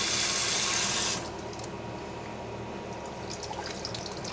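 Water rushes out of a pot of washed rice as it is drained, a loud hissing stream for about a second that drops to a quieter trickle with faint drips and clinks.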